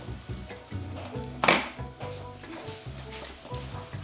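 Pastel dough sizzles in hot oil as it is dropped into the pan, with a sharp hiss at the moment it goes in and quieter bubbling afterward over a soft rhythmic kitchen backdrop.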